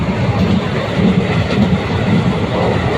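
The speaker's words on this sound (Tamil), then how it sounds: "வண்டி பறக்க ஆரம்பிச்சிருச்சுங்க சரியான ஸ்பீடு ஒரு அருமையான வண்டிங்க" The Puducherry weekly express from Tiruchirappalli runs at speed, heard from on board as a loud, steady rolling rumble with rattling carriage noise and faint wheel clatter.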